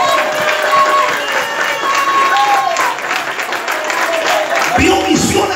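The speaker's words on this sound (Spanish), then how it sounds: "Denle un aplauso a Cristo en esta hora." A church congregation applauds during a sermon, a loud, sustained wash of clapping with crowd noise and a few cheers, and a voice briefly heard near the end.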